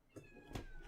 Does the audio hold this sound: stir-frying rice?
no